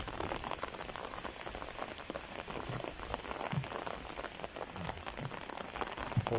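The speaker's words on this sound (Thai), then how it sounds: "ในบรรยากาศฝนตก ซึ่งเราก็ไม่สามารถเลี่ยงได้นะครับ เพราะว่าเวลา ที่เรามานี้ฝนกำลังตกพอดี" Steady rain patters on surfaces around a homestay among green rice fields near Phu Pha Man, Khon Kaen, a dense, even hiss with occasional louder drops close by.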